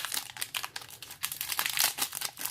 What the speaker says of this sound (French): On va attaquer le troisième booster.